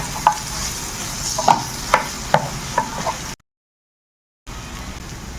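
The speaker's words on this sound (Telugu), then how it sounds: "అల్లం వెల్లుల్లి పేస్ట్ని అయితే ఇందులోకి యాడ్ చేసుకొని అది మంచిగా మిక్స్ అయ్యే విధంగా ఒకసారి అయితే కలుపుకుందాం" A spoon stirs ginger garlic paste in a hot pan for a spicy boiled egg curry, scraping in a run of regular strokes over a soft sizzle, then a short silence before the frying resumes.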